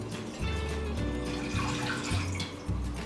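One and a half cups of water poured into a pan for sugar syrup, a short close splashing pour with low gurgles, heard alone.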